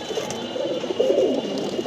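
Pigeons at a small home loft give soft, low cooing calls that run steadily for a couple of seconds over a faint background hiss.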